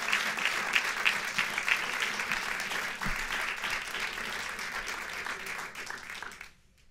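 Audience applause for a performer at an evening music show, a dense, steady wash of many hands clapping close by that holds for several seconds before fading out at the end.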